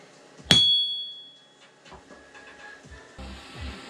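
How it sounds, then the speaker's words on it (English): Hammer striking an anvil resting directly on concrete ground: one sharp, bright metallic clang with a long ringing tone fading out, followed by faint handling noises. "now I've got the anvil on a concrete ground, same one that I just struck"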